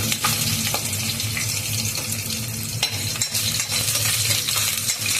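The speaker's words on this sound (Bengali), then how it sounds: "এবার গোটা জিরা আর লঙ্কাটা ভাজা হতে হতে নারকেল কুচি দিয়ে দেবো" Coconut shreds fry with whole cumin and chilli in oil, giving a steady close sizzle broken by spatula scrapes and light metallic taps against the pan, with no speech.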